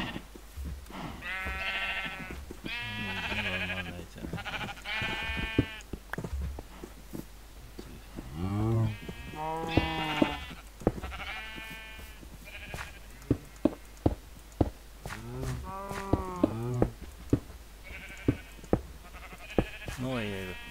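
Sheep in Minecraft bleating repeatedly, a series of clear, close baa calls spread through the clip between footsteps and soft clicks, with a person talking in Finnish at times.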